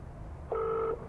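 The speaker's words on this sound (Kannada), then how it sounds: "ಅದಕ್ಕೆ ಫೋನ್ ಮಾಡ್ತಾಯಿದ್ದೀನಿ" A phone call is dialed, with a single short clear dial tone, close and distinct, over low background hum.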